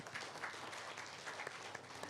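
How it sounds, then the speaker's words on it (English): Audience applause for panelists at a gender outlook forum, a steady patter of many hands clapping at moderate, somewhat distant volume for about two seconds with no talk over it. "Let's give them a big round of applause."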